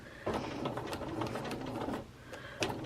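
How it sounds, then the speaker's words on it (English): A Bernina sewing machine fitted with a quarter inch foot runs steadily, its close, continuous mechanical whirr carrying a quick stitching patter for nearly three seconds, with no speech. "And now I'm sewing with my 1/4 inch foot exactly on the line."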